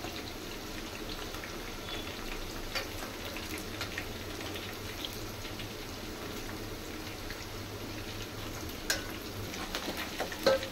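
A tempering (oggarane) sizzles steadily in a pan for a Bombay-style bele sambar, a continuous close frying hiss with a few brief stirring clicks near the end and no voices.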